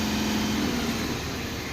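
A truck engine with an SCR system fault, revved to full rpm, gives a steady, loud, dense roar that holds without letup throughout, heard close by.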